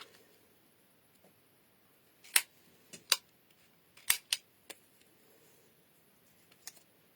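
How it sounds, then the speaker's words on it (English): A few crisp, sparse snips of scissors cutting paper, close and quiet, with irregular gaps between cuts in a still room. "scissors and just trim it off."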